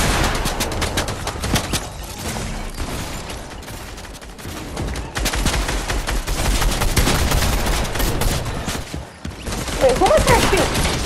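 Gunfire in a blue vs red rumble shooter match where pump shotguns are in use: dense, rapid bursts of shots and clattering fire crowd most of the stretch, with a short lull near the end.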